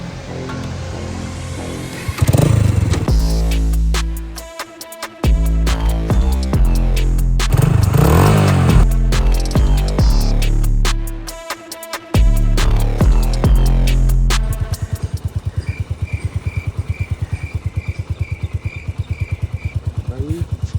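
A modified motorcycle engine revs hard and throbs loudly throughout a ride, rising and falling with throttle bursts and gear changes, with a lighter pulsing idle near the end.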